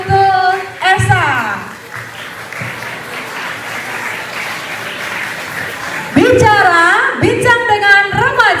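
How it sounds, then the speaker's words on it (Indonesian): An audience at a school talk show at SMA Negeri 2 Denpasar applauds in a sustained wash of clapping, with a host speaking loudly over it at the start and again near the end. "Tepuk tangan yang meriah untuk Esa"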